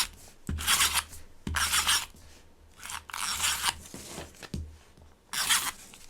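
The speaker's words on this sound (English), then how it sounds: "I am going to add tape to the back of all of these" A handheld tape runner rolls adhesive onto the backs of paper card mats for mounting on a card base. It gives repeated raspy, scratchy strokes, about five close passes of roughly a second each, with soft gaps between them.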